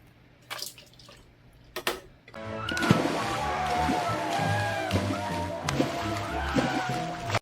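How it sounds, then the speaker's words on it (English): Lobster tails drop into a bowl of ice water, a few faint knocks and taps giving way to a steady slosh and trickle of water close by, with a quiet clink near the end. "We are now going to remove our lobster tails, place them right into some ice water."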